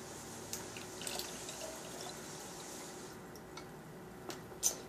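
Liquid for a reborn apple juice kit is poured into a container, giving a faint, steady trickle with a few soft drips over quiet background noise.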